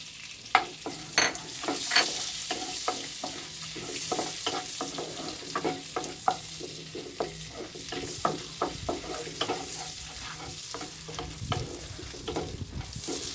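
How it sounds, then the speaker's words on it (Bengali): Bay leaves, cumin, cardamom, cinnamon and a dried chilli temper in hot butter for palak paneer, giving a steady sizzle broken by frequent small crackles and spoon scrapes, close and without talk. "এখানে ফোড়নে আমি দেব দুটো তেজপাতা একটু সাদা জিরে একটা বড় এলাচ তিন টুকরো দারচিনি চারটে ছোট এলাচ আর একটা শুকনো লঙ্কা পুরোটা আমি এর মধ্যে দিয়ে দিচ্ছি"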